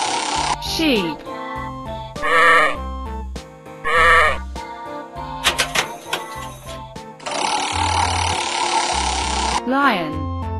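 A sheep bleats in a children's animal-figurine learning game, its wavering cry standing out amid bright musical tones and sound effects, with other animal calls and voices heard around it.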